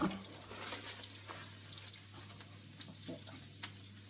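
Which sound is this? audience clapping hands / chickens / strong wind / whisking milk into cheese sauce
whisking milk into cheese sauce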